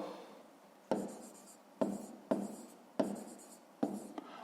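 A pen writes by hand on paper during a fifth-grade math exercise, making about five short, crisp bursts of strokes with pauses between them. It sounds close, and no one speaks.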